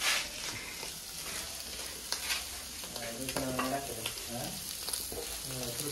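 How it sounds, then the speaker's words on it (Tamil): Small fish frying in fat for biryani, a soft steady sizzle with stirring scrapes and clatter from a spatula in the pan. "சின்னன் மீன் பொரியலுக்கு கொழுப்பு போட்டு வதக்கல் நடக்குது."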